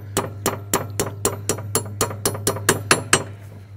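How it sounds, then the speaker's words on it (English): A hammer strikes metal about a dozen times in a quick, steady rhythm, each blow sharp and close, driving a roll pin through a shim on a tractor hitch. "drive it through the shim until it's even with the outside"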